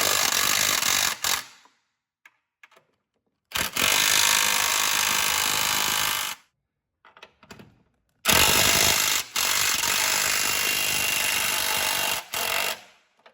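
An impact wrench with a 14 mm socket tightens the top strut bolts on a Fiat 124 Spider Abarth: three loud, close bursts of rapid hammering, each lasting a few seconds, separated by quiet gaps.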